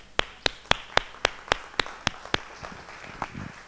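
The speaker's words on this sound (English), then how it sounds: "So just like a brief applause to Rudir." A small meetup audience gives a speaker a brief round of applause: about a dozen sharp, evenly spaced claps close to the microphone, loud at first and then thinning and fading out.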